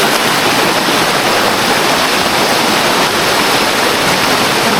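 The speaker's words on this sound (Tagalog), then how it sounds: "Lakas ng tubig" Strong river water roars in a steady, loud, close rush with no voices and no pauses.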